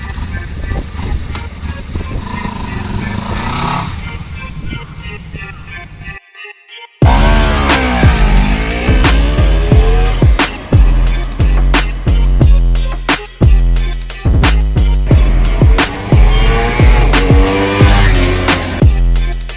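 A 2020 Honda CBR 250RR motorcycle engine revving loudly while being ridden, repeated rising and falling revs after a brief quieter passage and a short gap of silence.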